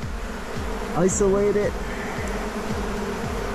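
A honey bee hive open for a spring inspection hums with a steady, close, droning buzz as swarms of bees fly about, and someone speaks a word over it.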